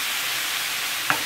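Ground red meat hits a dry, unoiled hot pan, giving a steady broadband sizzle with one short sharp pop of contact near the end, close and alone.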